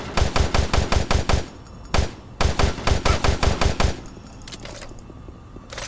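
A machine gun in the video game Doom 3 fires loud rapid bursts nearby, two volleys of evenly spaced shots separated by a single heavy blast, then a quieter mechanical rattle as the firing stops.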